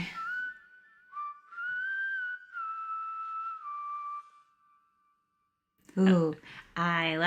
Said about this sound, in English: Ooh, I like that whistle.